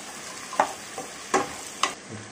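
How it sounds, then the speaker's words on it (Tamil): Tomatoes, garlic and sliced ginger stirred in a pan, with a few distinct scraping stir strokes over a soft continuous sizzle, close and moderately loud. "இப்போ 2 மீடியமான தக்காளியை போட்டு லேசாக வதக்கினா போதும்."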